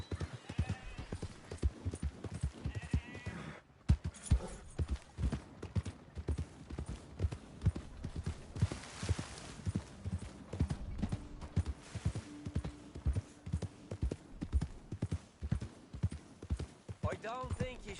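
Horse hooves clip-clop steadily on a trail in Red Dead Redemption 2, a continuous rhythmic patter running beneath frequent talk and game dialogue throughout.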